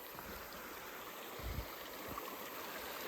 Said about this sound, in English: quite a fast flowing river, which I'm just coming up to now